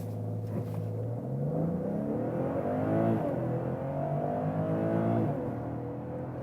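A BMW 540i launches hard from a standstill using launch control, its engine note rising steadily through the gears as it pulls, a continuous loud drone from inside the car with no talking.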